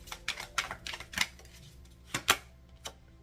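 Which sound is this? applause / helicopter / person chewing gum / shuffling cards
shuffling cards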